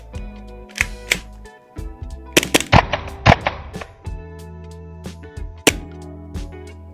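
VFC Walther PDP gas blowback airsoft pistol fired in a series of sharp, separate clacking shots with short pauses between them, some doubled, close and fairly loud against a quiet background.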